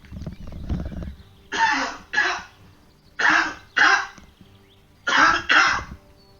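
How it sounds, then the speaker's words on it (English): A man coughing in three paired bursts, each double cough close and harsh, separated by short pauses, with no talk. "I have a really bad cough coming up, so give me 1 second."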